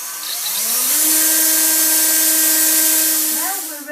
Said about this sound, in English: you have to drill a little hole in the corner so the cable can go in